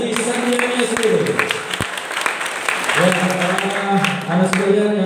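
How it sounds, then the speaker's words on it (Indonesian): Applause at a school gathering for a biology teacher being introduced, with a voice speaking and music-like tones over the clapping, which runs steadily underneath the whole time. "Tepuk tangan untuk Ibu Nuri Haji Sandiani Sulu."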